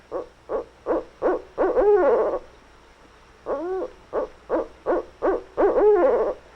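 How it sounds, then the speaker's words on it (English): A barred owl hoots loudly in a Kentucky woodland in two rhythmic series, each run of short hoots building into drawn-out, wavering calls, with a pause between. "The barred owl, common in Kentucky woodlands, talks long and loud."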